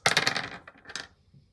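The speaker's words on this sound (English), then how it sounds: "Roll the dice." Dice tossed for a dungeon map-making board game clatter and tumble briefly onto a hard surface, a close burst of rattling clicks that settles within about a second.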